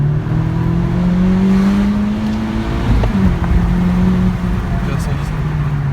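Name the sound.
Honda Civic Type R accelerating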